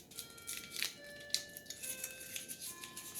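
Bouillon cubes being unwrapped by hand, their foil wrappers giving soft, close crinkles and snips of rustle in a few short bursts against a quiet room.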